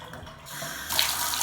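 A tap turns on and brown water gushes steadily into a sink, a loud continuous hiss that swells after a quieter start.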